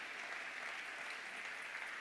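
A church congregation claps together during a Sunday worship service, a dense, steady wash of applause that runs evenly throughout without any voices.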